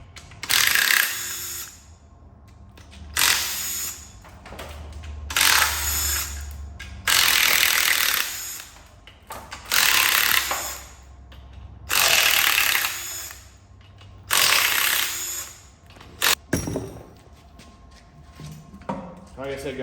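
A hand ratchet works loose the oil pan and main bearing caps on a blown-up Ram TRX engine during teardown, in repeated bursts of fast ratcheting clicks separated by short pauses.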